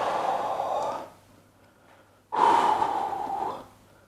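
Two forceful, breathy exhalations during a full-body strength workout, each lasting about a second and loud and close, separated by a brief quiet pause.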